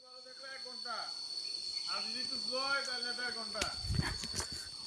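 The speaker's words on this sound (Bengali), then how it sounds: "আর পাহাড়ের যে ঝিঝি পোকার আওয়াজ, পাখির আওয়াজ, নতুন নতুন কিছু আওয়াজ শুনতে পাচ্ছি।" Crickets chirp continuously on a hill forest trail toward Hamham waterfall in Sreemangal, a steady high-pitched drone running under people talking and footsteps.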